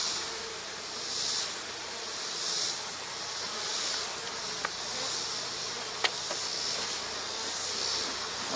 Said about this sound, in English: we got a lot of bees on there